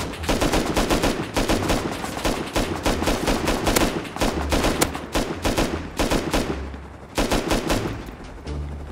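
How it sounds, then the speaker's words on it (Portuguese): Heavy, continuous gunfire in the survival video game Rust, loud rapid overlapping shots and bursts filling the whole stretch with only brief dips, no voices. "agora que tu vai atirar, atira!"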